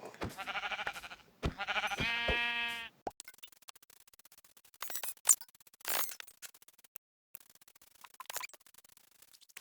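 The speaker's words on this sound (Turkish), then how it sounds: "Şöyle şurada bir iki koyun var." Sheep bleating in a video game, two or three loud, wavering bleats close together at the start, followed by quieter scattered clicks and scratchy rustles.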